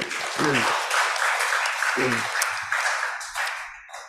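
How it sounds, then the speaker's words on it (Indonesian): Applause welcoming a pastor at a community service dissemination event, a dense spread of clapping from a gathered crowd, with a voice speaking briefly over it twice. "kita beri tepuk tangan dulu"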